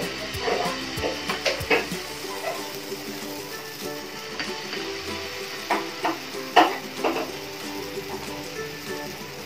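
Cassava adai batter cooks on a hot, lightly oiled tawa, giving a soft, steady sizzle broken by scraping and clicking taps from a utensil, with no talking.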